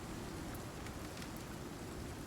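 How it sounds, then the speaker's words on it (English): Steady, dense rain falls in the survival game Icarus, a continuous close hiss of drops with no voices, holding level throughout. "And unfortunately, it's raining,"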